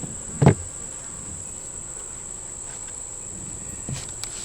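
Honey bees at a hive hum faintly and steadily, with a couple of brief louder buzzes from bees passing close.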